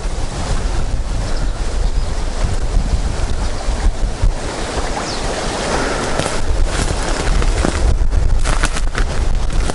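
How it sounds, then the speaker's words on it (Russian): Strong, gusty stormy wind roars and buffets the microphone steadily beside the Segezha River in Karelia, with rushing water and waves churning underneath. "Так, у нас штормит."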